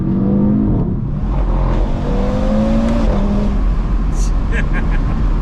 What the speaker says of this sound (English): Oh, I love catching the revs.